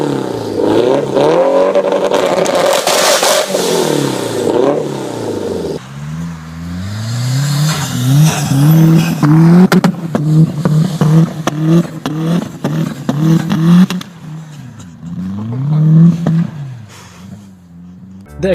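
A Mitsubishi Eclipse GST, a turbocharged 2-liter inline-4 front-wheel-drive sports car in a Need for Speed racing game, revs and accelerates loudly through repeated rising gear pulls, with a brief drop before climbing again.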